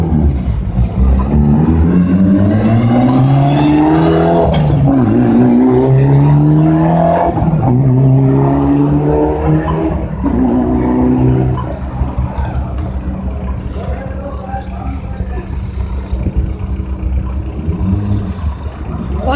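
A Ford Focus rally car at a rally stage drives past close by, with a loud engine rising and falling through gear changes, then settling into a steady drone as it moves away.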